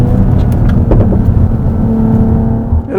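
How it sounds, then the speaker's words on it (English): Loud, low exhaust roar from a 2020 Mercedes-AMG GLE 53 Coupe six-cylinder engine, broken by a few sharp crackling pops on the overrun early on, then settling into a smoother drone, with no talking. "Little pops and bangs on the overrun."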